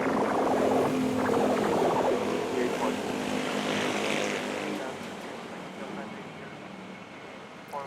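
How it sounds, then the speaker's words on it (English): Airliner bound for Osaka taking off on runway 24 at Manila's NAIA airport, a broad steady engine roar fading gradually as it departs, with voices talking over it. "we have the flight to Osaka taking off"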